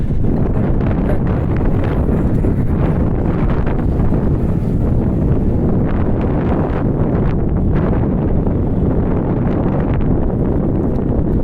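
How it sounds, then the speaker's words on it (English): Strong wind buffets the microphone outdoors while walking between Spring Garden Road and Young and Robie streets, a loud, constant low rumble with gusty fluctuations and no speech. "It's windy right here, man."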